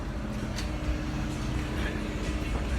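A turbocharged drag car engine warming up for no-prep racing, a steady loud rumble with dense low-frequency drone throughout and brief higher bursts, close by and continuous without speech.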